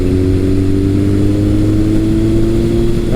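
A Kawasaki ZRX1200R motorcycle with an ART exhaust runs at low RPM, giving a loud, deep, steady engine drone close by, with no voices.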